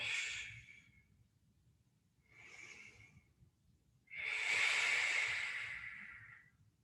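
A person exhaling forcefully during a core exercise, three breathy hissing exhales, two short ones followed by a longer, louder one, close and quiet, with no talking.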